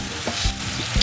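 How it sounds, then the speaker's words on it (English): Slabs of ribs sizzling on a charcoal grill, a steady hissing crackle with a few soft low thumps, close by and with no voices. "You can hear the sizzling of the meat"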